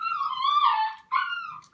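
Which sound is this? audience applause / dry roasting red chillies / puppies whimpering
puppies whimpering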